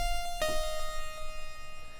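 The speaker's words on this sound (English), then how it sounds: "so I now have a synth bell" Synthesizer bell patch built from saw waves on a Yamaha Montage/MODX with octave change, reverb and chorus: a single bright bell strike with a steady ringing tone that sustains and slowly decays, heard alone.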